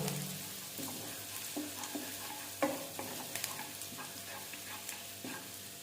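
Ginger and garlic sizzle softly in oil in a pan for an aloo palak dish, with a steady quiet frying hiss broken by a few scraping stirs of a spatula.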